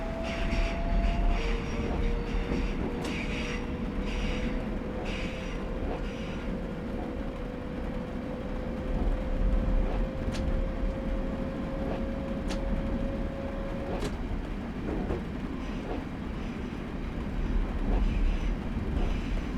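A four-coach train in Train Simulator 2015 pulls away on the Sheerness to Sittingbourne line, a steady rumbling drive with a rising whine climbing in pitch for about fourteen seconds, plus occasional clicks and clunks over the track.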